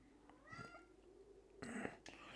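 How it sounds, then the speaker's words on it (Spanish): A cat in a Dragon Ball Xenoverse 2 game session gives a few short, quiet meows with gaps between them, one louder cry near the end, over a soft background hum. "Es que me está hablando el gato, por la otra línea"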